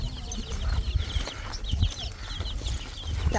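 Chickens cluck nearby in short, irregular calls over a busy outdoor village background.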